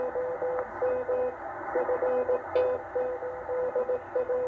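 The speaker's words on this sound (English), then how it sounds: "this is ARRL's Morse code" Morse code from the ARRL W1AW training station received on shortwave radio with a Tecsun H-501X on a loop antenna: a steady run of clear dits and dahs in a single tone over background static and hiss.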